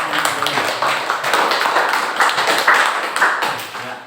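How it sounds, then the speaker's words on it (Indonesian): A classroom of students claps for a classmate, a brief burst of close, moderately loud, uneven applause that swells and fades over a few seconds. "Aplaus untuk Dewi."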